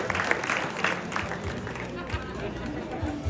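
Spectators at a race finish in Sainte-Marie-aux-Mines applaud a rider completing the last special stage, steady clapping mixed with crowd chatter and nearby voices throughout.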